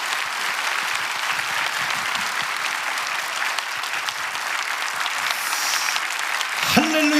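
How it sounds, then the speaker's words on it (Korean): A church congregation at a dedication service applauds to welcome a pastor, with steady, full applause from many hands throughout that grows slightly near the end and is followed by a brief tonal sound. "여러분 뜨거운 박수로"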